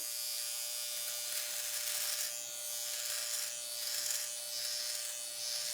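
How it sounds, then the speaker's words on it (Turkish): Philips OneBlade electric shaver running against facial stubble, a steady high-pitched buzz with scratchy cutting texture that swells and eases as it passes over the skin, close and continuous with no talking. "Şimdi kendi cihazımla tıraş oluyorum."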